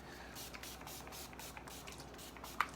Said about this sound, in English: it's time to go in with setting spray one more time, just to seal the deal here